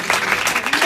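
A church congregation claps in a quick, steady rhythm, several sharp hand claps close together in under a second, loud and near.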